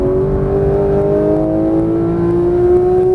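A Porsche 991.1 GT3 engine on a racing track howls loud and close, its tone climbing smoothly through an upshift without a break.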